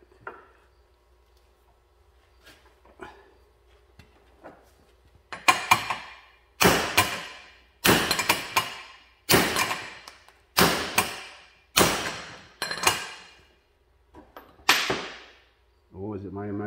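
Laser Tools impact screwdriver struck by a hammer, a run of about eight loud, sharp metallic blows spaced roughly a second apart, each ringing briefly before the next, after a few faint taps at the start.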